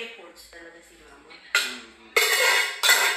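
Pot and dishes clank sharply in a home kitchen at a Masbateño get-together in the UK: three loud, bright bursts of metallic clatter after a quieter stretch of soft background chatter.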